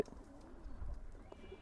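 A male Chinese Teddy pigeon coos softly, a low murmuring burble lasting about a second and heard at close range in a quiet space.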